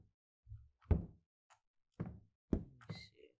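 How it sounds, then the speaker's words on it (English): A locked bathroom door jiggled in a horror video game: a series of hollow knocks and thunks as the handle is tried, five or six close rattling impacts separated by silence, dry and near. "This door is locked."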